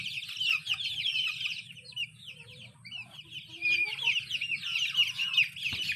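Rhode Island chickens, inbred from Rhode Island parents, cluck and chirp continuously at close range, with a steady low rustle beneath and no talk.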